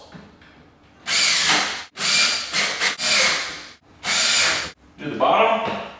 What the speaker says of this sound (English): put the screws right back in the old holes